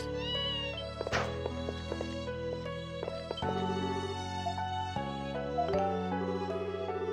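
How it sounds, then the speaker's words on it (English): A cat meows in the video game Ys SEVEN, with a couple of short cries set against steady game music, moderately quiet and without talk. "Cat."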